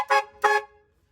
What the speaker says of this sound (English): got your air horn on it